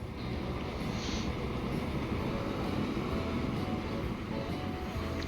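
Trains rolling along the tracks in the Transport Fever game, a steady dense rumble that holds at an even level throughout with no pauses, with no clear talk over it.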